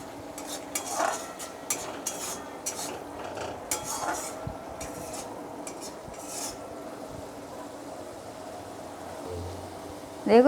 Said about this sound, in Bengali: মশলাটা যতক্ষণ তেল না ছাড়ে ততক্ষণ একটু ভালো করে কষাতে হবে।